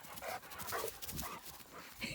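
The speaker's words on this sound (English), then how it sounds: "Slinky's barking, I know" A dog on a rural property with rescue horses and dogs barks in short, faint bursts from a distance, a few repeated yaps alongside panting-like noise.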